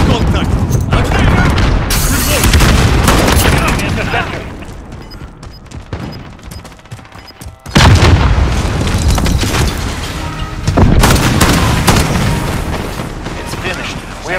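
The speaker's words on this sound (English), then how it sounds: "Enemy cruise missile." Heavy booming explosions from a cruise missile strike in Call of Duty: Modern Warfare multiplayer, loud and dense, with rumbling blasts, gunfire and chaotic battle noise that briefly drop away midway before surging back.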